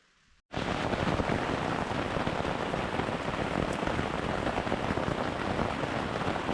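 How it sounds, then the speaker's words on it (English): Thunderstorm rain pours onto a backpacking tent on the Appalachian Trail in Vermont, starting abruptly after near silence and then drumming as a dense, steady, close patter that continues without pause. "A little bit of a random thunderstorm out of nowhere,"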